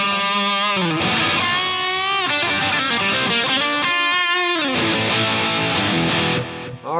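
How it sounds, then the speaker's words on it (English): An electric guitar played through a Headrush Gigboard with a tape echo delay effect rings out sustained, distorted notes and bends, each phrase trailing into repeating echoes, loud and alone. "just for fun, we're going to do a tape echo"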